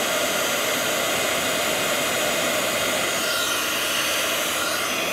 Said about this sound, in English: your heat gun and get it as hot as it can be